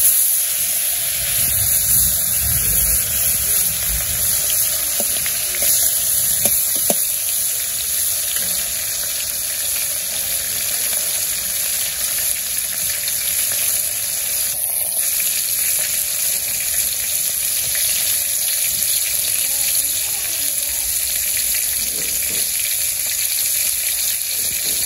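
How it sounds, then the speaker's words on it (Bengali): Fish frying in hot oil gives a loud, continuous sizzle and hiss close up, with crackling spatters that stay steady throughout and no voices over it. "আমার তেল গরম হয়ে গেছে মাছগুলো দিয়ে দিই"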